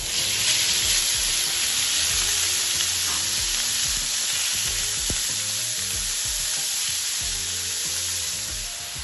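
Beef sizzling hard in a hot pan with olive oil, a loud continuous broadband hiss of frying with occasional faint clinks of stirring, no voices.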